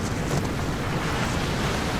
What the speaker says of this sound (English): Hopefully these waves don't come in on me.